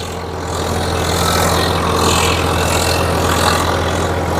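A Swaraj 855 tractor engine with a KSD 8-foot rotavator runs at a steady, loud, low drone close by, without speech.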